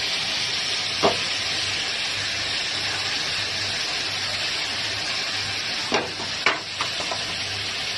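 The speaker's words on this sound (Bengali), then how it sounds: "এটাকে হাই হিটে 2-3 মিনিট এভাবে রান্না করব।" Chicken and vegetables stir-frying over high heat, a constant loud sizzling hiss close by, with a few sharp spatula scrapes and taps against the pan near the start and toward the end.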